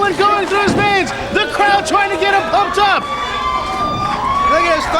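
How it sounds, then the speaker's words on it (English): A wrestling crowd at an EWF title match roars and cheers in waves, with whistles, shouts and thuds from the ring, while a commentator talks over the noise throughout. "The crowd trying to get him pumped up."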